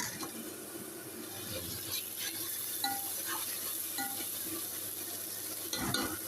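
Fish sizzles in a pan with ginger and garlic, a steady close frying hiss with occasional light clinks of a utensil against the pan, no talking.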